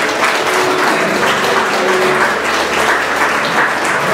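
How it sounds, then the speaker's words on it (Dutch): A church congregation applauds loudly and continuously, a dense wash of clapping that stays even from start to finish with no voices over it. "geef een applaus."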